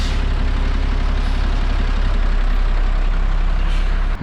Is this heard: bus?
yes